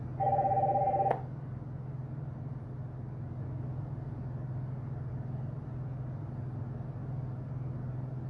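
A telephone rings once with a short electronic warble from an incoming caller during a call-in broadcast, then cuts off, leaving a steady low hum underneath.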